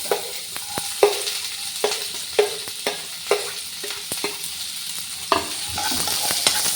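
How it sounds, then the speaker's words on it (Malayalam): Garlic and onions fry in a pan with a constant, close sizzle, broken by a regular series of scraping, knocking stirring strokes from a spoon against the pan. "വെളുത്തുള്ളി ഒന്ന് മുരിഞ്ഞ് വരുമ്പോൾ നമുക്ക് സവാള ഇട്ട് കേട്ടോ"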